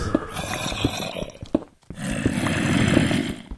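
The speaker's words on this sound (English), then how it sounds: "Sounds like zombies." Zombies in the video game Minecraft give low, rough groans and growls in bursts, with a short quiet gap midway and then a longer, louder rasping stretch.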